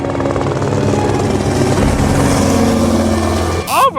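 A cartoon helicopter from The Simpsons carries a pilot and five passengers over a mountain peak, its engine and rotor giving a loud, steady drone before a short whooshing sweep at the end.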